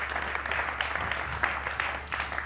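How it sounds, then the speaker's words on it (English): Steady clapping from a church congregation at a Sunday service, a dense patter of many hands applauding continuously at moderate volume. "let's give a round of applause for this beautiful couple."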